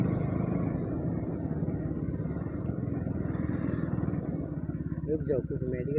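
A motorcycle engine rumbles steadily with a throbbing low drone during a wheelie on a moto vlog ride, moderately close and continuous.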